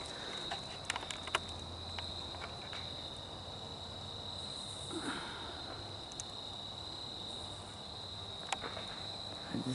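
Crickets chirp steadily at a faint level in a quiet outdoor setting, with a few soft rustles and small clicks scattered throughout.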